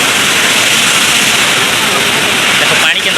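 Phurlijharan waterfall in Kalahandi, Odisha, pours down as a loud, steady, broadband roar of falling water that fills the whole moment without a break.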